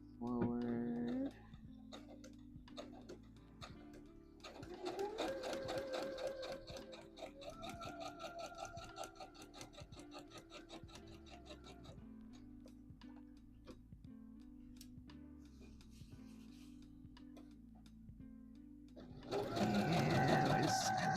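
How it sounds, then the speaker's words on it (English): Sewing machine stitching a dress seam, a steady mechanical whir with fast ticking needle strokes running almost the whole way through, with brief louder bursts near the start and end. "we're just gonna sew all the way down to that dot"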